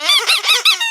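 Three quick high-pitched squeaks in a row, like a rubber toy sound effect, play loud and clear against silence before a short tail.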